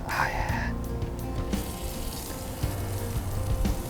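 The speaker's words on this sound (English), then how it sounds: "a little bit of sautéing in this amazing onion and garlic from Tsang stir fry oil" Onion and garlic sautéing in stir fry oil give off a steady, close sizzle and crackle that carries through the whole stretch with no talking.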